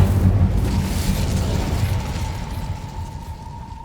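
An Incendio fire spell is cast in Hogwarts Legacy. A loud, roaring burst of flame opens and fades into a rumbling, hissing tail, with a faint tone lingering near the end.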